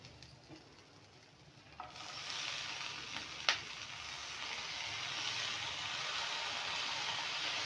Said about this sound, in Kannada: ಈಗ ಸೊಪ್ಪು ಕೂಡ ಇದ್ರ ಜೊತೆಗೆ ನೀಟಾಗಿ ಫ್ರೈ ಆಗಬೇಕಾಗುತ್ತೆ